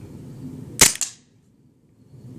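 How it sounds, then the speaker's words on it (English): A single sharp crack from a WE-Tech G27 gas blowback airsoft pistol fired one-handed at close range, with a quick metallic slide clack right after, then near silence. "So I'm going to be shooting it one-handed"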